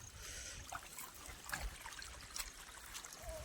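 Water trickles from one rice field into the next in a rainy village farm setting, a soft steady dribble with faint splashy bursts, heard alone at low level without talk.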